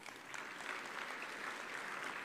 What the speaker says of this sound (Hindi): अभी ताली बजा के स्वागत करो